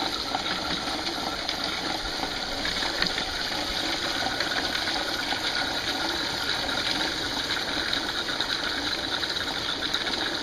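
Water rushes steadily through a milk-crate sluice washing gold-prospecting material, a constant close gushing wash with a motor hum beneath, unbroken for the whole stretch.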